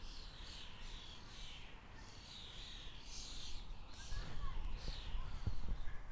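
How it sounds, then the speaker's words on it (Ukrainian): Birds chirp and call repeatedly in a Kyiv park near a fountain, a steady outdoor chorus at moderate distance, with some rustling and low noise growing louder toward the end. "Співають птахи."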